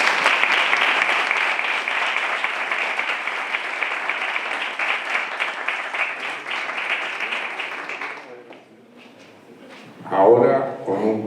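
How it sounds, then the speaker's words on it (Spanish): An audience at an open-air poetry event applauds steadily for several seconds before the clapping fades out, and then a voice briefly speaks. "Sin los aplausos. Aplausos del público."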